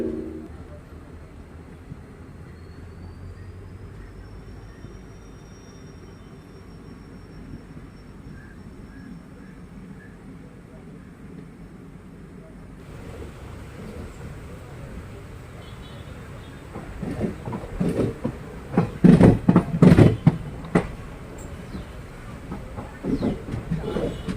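A passenger train runs through West Hill railway station in Kozhikode. A low, steady rumble of the carriage grows into louder rattling and clatter of the wheels in the second half. A goods train stands at the opposite platform.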